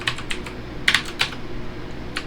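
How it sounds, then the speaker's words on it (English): Fingers tap on a computer keyboard in short bursts of quick, close keystrokes, with a few sharper clacks, in a quiet room. "Type it in up here."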